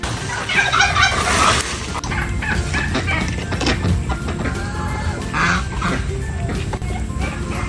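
Turkeys gobbling and clucking beside their broken pen after a typhoon, several birds calling over one another in repeated bursts outdoors, with faint human voices in the background.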